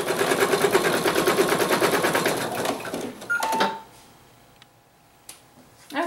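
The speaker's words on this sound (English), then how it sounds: "it's going to do a placement stitch first, and then it's going to tack it" An embroidery machine runs a placement stitch and tack-down on a raccoon mug rug, giving a rapid, steady, close mechanical stitching rattle that stops after about three and a half seconds, leaving quiet room tone and a few small clicks.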